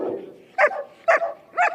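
A police squad dog at a crime scene in Palanpur barks three times in short, evenly spaced bursts, close and fairly loud, with no one talking.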